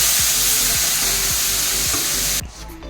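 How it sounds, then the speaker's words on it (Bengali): Fish frying in a pan gives a loud, continuous, close sizzle with faint repeated low bumps beneath it, then drops away sharply near the end, leaving a quieter hiss. "মাছগুলোও ভেজে নিচ্ছি।"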